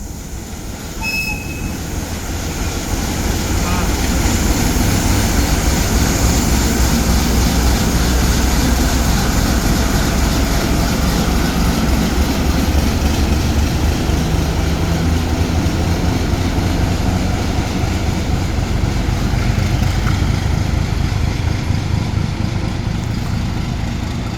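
A ChME3 diesel locomotive hauling a suburban train departs, its engine droning loud and steady throughout with rumbling wheels and rail noise, heard close by without talk.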